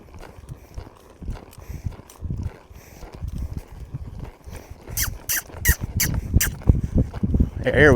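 A ridden horse lopes on its first ride, its hoofbeats thudding in an uneven rhythm that grows louder and busier toward the end, while a rider talks and clucks over it nearby.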